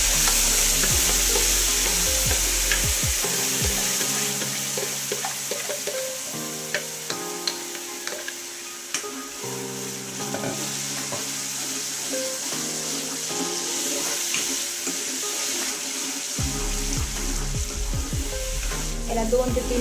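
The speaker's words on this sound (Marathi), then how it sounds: "याला 2 ते 3 मिनिट व्यवस्थित फ्राय करून घ्यायचं आहे" A spice paste with cumin fries in a pan for a jaggery and tamarind chutney, sizzling steadily up close with intermittent scraping and stirring clatters over the hiss.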